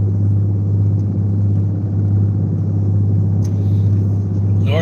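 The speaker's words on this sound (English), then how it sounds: "I'm driving north on 65 now" A car cruises north on a highway, giving a steady low rumble of engine and road noise from inside the cabin. The drone stays constant at a moderate level with no talking.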